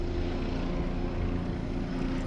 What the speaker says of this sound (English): Yep, exactly, a helicopter. Flying alone.